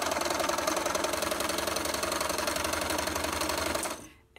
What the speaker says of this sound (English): So I'm going to continue sewing.